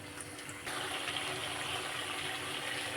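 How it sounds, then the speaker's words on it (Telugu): Tamarind juice poured into a pan of Telugu-style pond fish curry with drumsticks makes a soft, steady watery gush that starts suddenly and keeps running, faint and with no talk. "ఇప్పుడు చింతపండు పులుసు వేస్తున్నాను"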